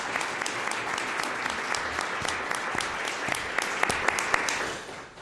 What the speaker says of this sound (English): please join me in a round of applause for the 6 panelists